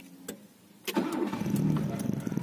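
Starter cranking on a Nissan with a GA14DNE engine and a blown ECU, a brief whir followed by the engine catching and settling into a rough, close idle.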